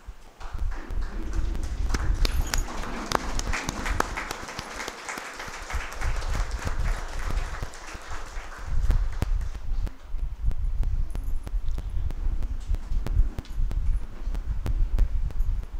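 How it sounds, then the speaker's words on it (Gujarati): A standing ovation at a naming ceremony for an activity centre in Surat, India, with a crowd clapping steadily and loudly throughout, a dense continuous patter that swells at times, with no talk over it. "આપણી જગ્યા પર ઊભા રહીને એમને તાળીઓના ગડગડાટથી સન્માનીએ"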